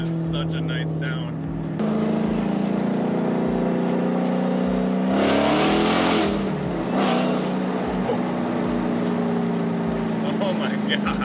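A Dodge Challenger Hellcat with full bolt-ons, catless mid-pipes and mid muffler delete leaving only rear mufflers accelerates hard, a loud raspy exhaust roar rising through the gears with a brief shift break, close and sustained as people talk.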